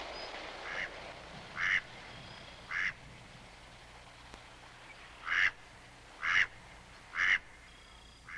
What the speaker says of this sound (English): The marshes of Long Point on Lake Erie are a vital staging area for migrating waterfowl.